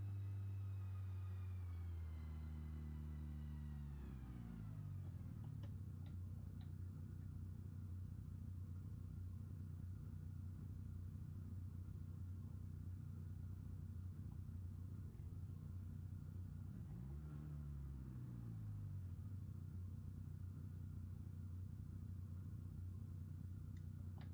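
A powerful car engine in the BeamNG driving game drones steadily throughout, with a pitch dropping at shift points and swelling again partway through, loud and continuous with no talking.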